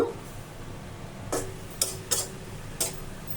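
A lid clatters onto a cooking pot of Malabar spinach, with several short metallic clinks spaced over a few seconds, close by and fairly faint, no talk.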